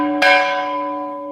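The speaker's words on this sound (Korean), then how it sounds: "아주 옛날 종이라 사람들이 종소리를 좋아하십니다" An old church bell at a historic Christian site struck once, a loud, clear clang that rings on with a long, steady humming decay.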